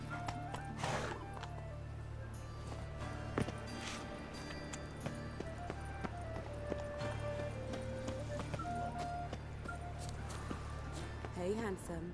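Horse hooves clip-clop at a gallop in the video game The Witcher 3: Wild Hunt, with snorts and a whinny, set under game music and spoken character dialogue.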